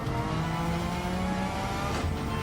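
A Gran Turismo 7 race car engine drones and revs steadily, its pitch climbing, heard alone with a synthetic, game-like tone.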